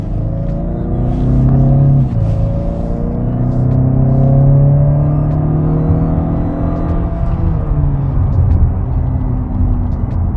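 An Acura RDX A-Spec SUV drives in Sport Plus mode, its engine droning steadily up close with rising and falling pitch as it accelerates and shifts gears, a continuous cabin rumble throughout.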